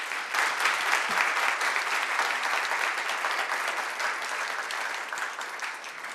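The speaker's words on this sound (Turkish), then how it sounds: "Güçlü alkışlar Tuğba Geçkin için" Studio audience applauding for Tuğba Geçkin on a Turkish TV show: loud, dense, steady clapping from many hands that fills the whole stretch and eases only slightly at the end, with no talk.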